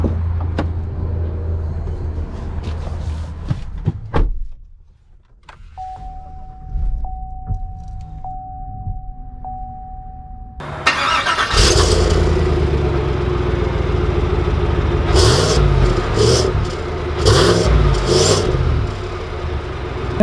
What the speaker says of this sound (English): let's take this Yukon out and see how it drives.